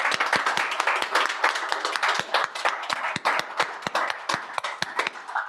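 A modest crowd at a city's State of the City address claps for commissioners and senior staff, giving a brisk patter of individual hand claps that is distinct and fairly close and lasts about five seconds.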